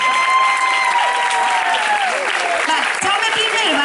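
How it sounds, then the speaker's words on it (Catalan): A crowd at a 9 October commemoration applauds loudly and steadily for Jaume I, with voices and cheering mixed into the dense clapping throughout. "un fort aplaudiment per a Jaume I"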